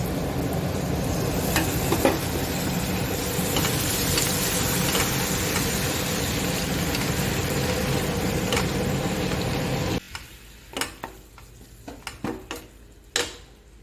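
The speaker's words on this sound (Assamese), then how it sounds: "এইখিনি ভালদৰে ভুনি লৈ" Garlic and green chili paste with salt sizzling in a hot pan, a dense continuous frying hiss for about ten seconds, then dying down into scattered clicks and scrapes of a spatula against the pan.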